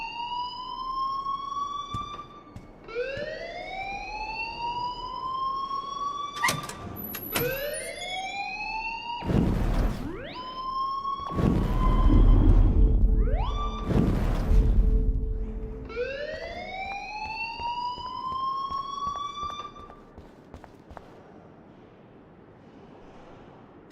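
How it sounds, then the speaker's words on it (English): A loud alarm rings in the Life is Strange video game, repeated rising whooping tones sweeping up one after another, broken midway by heavy thuds and bursts of noise before the wailing resumes. "please turn off that alarm since that's your job."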